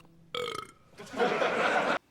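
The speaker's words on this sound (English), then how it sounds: "Bugs Bunny burped and people think it's funny?" A cartoon burp from Bugs Bunny in the animated-live action film Looney Tunes: Back in Action, with a short vocal blip followed by a long, loud, raspy belch of about a second, close and alone.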